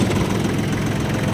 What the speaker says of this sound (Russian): и запускаем трактор